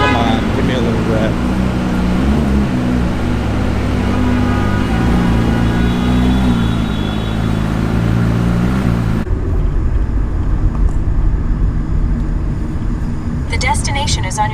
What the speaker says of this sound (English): Come on, give me a little rev.